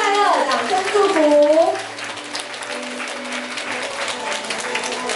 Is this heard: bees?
no